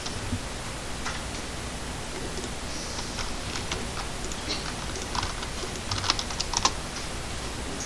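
Keys clatter on a computer keyboard in quick, irregular bursts during coding practice, with a few sharper, louder clicks near the end like the Enter key being struck, close and alone over a soft hiss.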